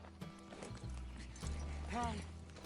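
Horse in the Red Dead Redemption 2 video game, with clip-clop hooves and a short whinny near the end, mixed with game sounds and some voice.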